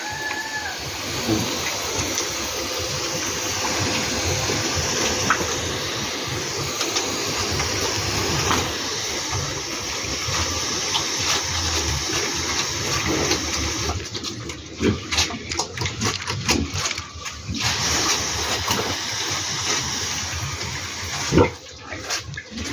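A water cannon sprays water like rain onto animals at a farm. The hiss and splatter are steady and fairly loud, then break into choppier bursts as the spray is adjusted.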